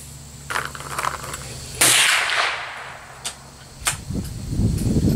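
A 1909 Argentine Mauser rifle fires a 7.65x53 reload: one sharp, loud outdoor crack with a decaying tail, then a few smaller metallic clicks and clatter, as from working the bolt.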